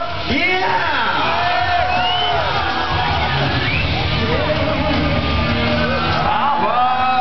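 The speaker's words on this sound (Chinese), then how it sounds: "尖叫声，掌声" A crowd screams, whoops and yells in a loud, continuous roar at a freestyle kayak competition qualifying run in Shenzhen, China, in 2007, with shouting voices rising over the din throughout.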